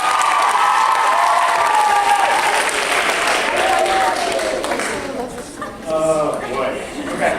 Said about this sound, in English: Give a big round of applause for today